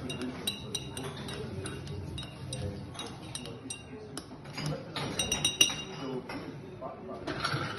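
A whiskey old fashioned being stirred in a glass, with light repeated clinks and tinkles of a spoon against glass, fairly quiet and close, with faint voice in the background.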